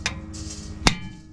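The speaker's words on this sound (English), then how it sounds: "So as you hammer it, it tightens it even more." Sharp metallic hammer strikes ring out as a new wheel stud is hammered into a Honda S2000 hub, three distinct blows spaced unevenly, close and loud, with a brief hiss between them.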